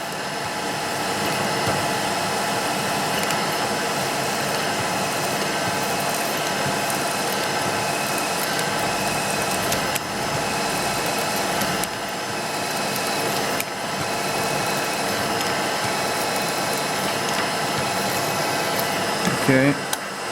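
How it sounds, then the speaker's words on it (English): Steady mechanical whirring and grinding of a drill boring holes through metal guide key parts for an etching press, continuous and close for the whole stretch, with a brief louder burst near the end. "I'm supported underneath close to where I'm drilling there"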